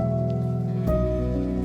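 Steady rain patters on trees with long thorny branches and smooth yet rough bark, a dense, continuous hiss of drops on leaves close by, with a slightly heavier wash of rainfall from just before the midpoint.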